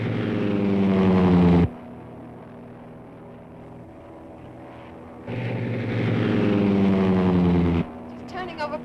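Propeller airplane engine opened up in flight, a loud droning roar with strong harmonic tones that runs for under two seconds, drops to a low hum, then surges loudly again before cutting off, with brief clicks at the end.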